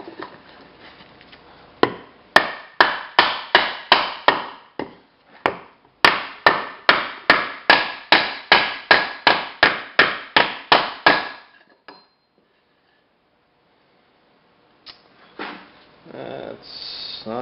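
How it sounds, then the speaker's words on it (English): A hammer drives a rear driveshaft for a Ford Super Duty onto its shaft through a pipe, giving two long runs of sharp, evenly spaced metallic strikes, then a pause and a brief rustle. "so we'll do the rest with the hammer"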